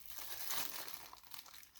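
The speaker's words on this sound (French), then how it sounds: "je déchire le papier" Paper packaging is torn open during an unboxing of gamer setup gear, giving a short burst of crinkly, rustling rips that peak early and trail off into lighter crackles.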